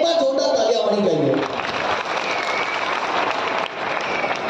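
Audience clapping at a Hindi comedy poetry gathering in Madhubani, with a voice speaking loudly over the start before the applause continues as a steady, fairly loud wash.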